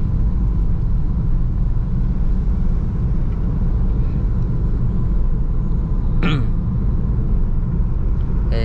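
A 2014 Honda Mobilio driving on a public road, heard from inside the cabin: a steady, loud low engine and road rumble throughout, with a brief sharp whine partway through and a voice talking over it.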